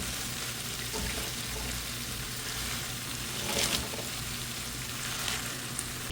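Fresh malabar spinach is added to shrimp frying in spices, and the pan gives a constant, close hiss and sizzle, with a short burst of crackle and stirring midway and no talking.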